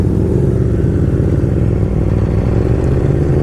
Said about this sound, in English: I love the way that V4 sounds